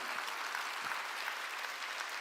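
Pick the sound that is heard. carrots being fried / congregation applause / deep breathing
congregation applause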